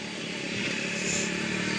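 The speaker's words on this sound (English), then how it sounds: "riding the four-wheeler around right now, so sorry about the noise" A steady engine drone from an ATV four-wheeler being ridden around runs continuously, fairly faint and even, with a slight rise in intensity partway through.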